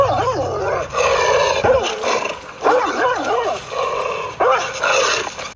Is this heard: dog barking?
yes